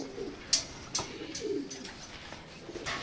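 A racing pigeon hen coos softly at a loft during a derby in Matnog, Sorsogon, with a few low murmuring calls and occasional sharp flutters or clicks against a quiet background.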